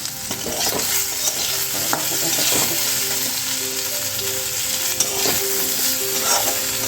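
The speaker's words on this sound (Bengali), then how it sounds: "এখন দেখো এদিকে হচ্ছে আমার করলা ভাজা বসে গেছে" Steady sizzling of bitter gourd frying in a pan with potato and onion, a continuous crackle with occasional soft clicks, close and fairly loud, no talking.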